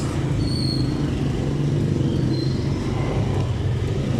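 Tricycle ride through intermittent rain, a steady loud low engine rumble with road and rain noise filling the whole stretch, no voices.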